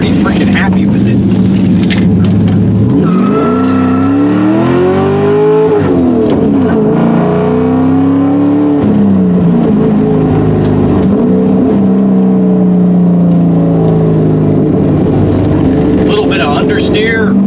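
An LS V8-swapped Porsche 944 on the move, its engine loud and close as it revs up and down in repeated rising and falling sweeps, with a steady drone underneath.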